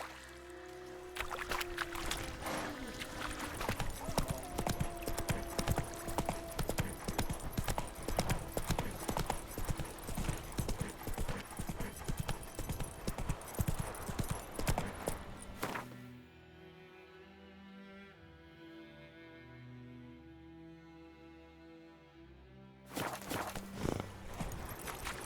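Horse hooves clip-clop steadily in The Witcher 3, a rhythmic walking gait for about fifteen seconds over music, then fading into quieter music before resuming briefly.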